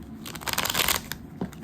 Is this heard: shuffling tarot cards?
yes